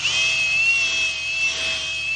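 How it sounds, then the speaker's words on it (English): A handheld drill runs steadily with a buffing pad on a Kawasaki jet ski, giving a continuous high whine with no pauses or talk. "What I also like to do is reverse the drill and do it in the opposite direction as well."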